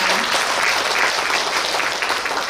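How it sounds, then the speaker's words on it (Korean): An audience in the Mungyeong City Hall main conference room gives a round of thanks to novelist Jeon Jeong-hee after her special lecture, a dense, even burst of clapping sustained loudly from start to finish. "진솔한 답변해주신 작가님께 다시 한번 감사의 박수 부탁드리겠습니다"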